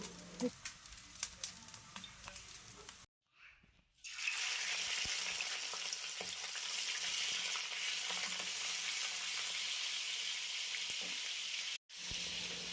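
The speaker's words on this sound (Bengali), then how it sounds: "প্রথমে একটা তাওয়ায় তেল নিয়ে নেব চিকেনগুলো ভাজার জন্য।" Chicken pieces sizzle loudly in hot oil in a tawa for a Bengali chicken kosha, a steady frying hiss that starts abruptly after a brief quiet gap, with softer pan noises before it and a short break near the end.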